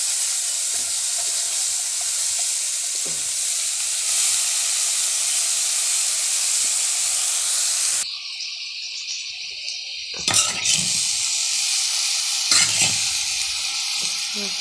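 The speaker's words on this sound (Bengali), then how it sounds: "ফুলগুলোকে একটু ভেজে নিতে হবে" Cauliflower and potatoes frying in oil, a continuous close sizzle and hiss with occasional stirring clinks, a brief cut partway through, then the frying carries on, no talking.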